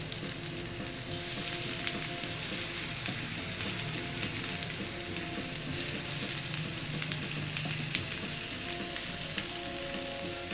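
Chicken seekh kababs fry in a pan with a steady, dense sizzle and crackle, heard up close and alone.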